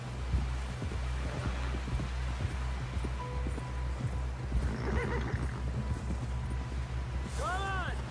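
Horse galloping in Red Dead Redemption 2, with a steady, close clip-clop of hooves over a low rumble, and a brief whinny near the end.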